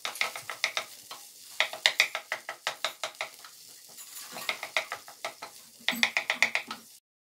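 Potato and scrambled egg being stirred and fried in a pan for potato egg rings, a spoon scraping and knocking in quick rhythmic bursts over a soft sizzle, close and fairly loud, no talk.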